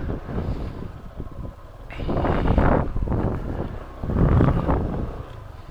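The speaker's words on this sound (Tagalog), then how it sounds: "Ganda, lakas ng alon eh. Lakas din ng hangin." Strong wind buffets the microphone in heavy gusts at a beach, with a rumbling wash of strong waves underneath.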